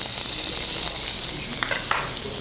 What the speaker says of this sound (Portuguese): Entra com os camarões na panela pré-aquecida.